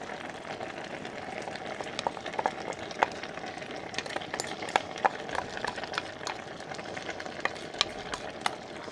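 Ground pork simmers in sauce in a pan, giving a steady soft bubbling sizzle with scattered small pops and occasional stirring clicks, fairly quiet and close.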